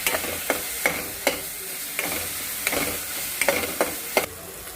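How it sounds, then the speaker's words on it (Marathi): Garlic and grated coconut masala sautéed in a pan for a Bombil fry recipe, with steady sizzling under regular spoon scrapes and clicks against the pan, close and fairly loud. "आता हे लसूण खोबरं परतवून घेऊया"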